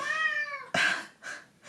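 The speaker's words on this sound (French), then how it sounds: "Désolée, quand ce n'est pas le chien, c'est le chat." A cat meows loudly and close by, one long drawn-out cry followed by two shorter meows, with no talking over them.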